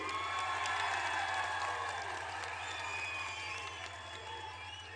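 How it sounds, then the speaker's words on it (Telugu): A large crowd applauds at a BRS political public meeting in Warangal, dense sustained clapping with scattered cheers under a steady low hum, gradually thinning toward the end. "గట్టిగా చప్పట్లతో స్వాగతం చెప్పండి"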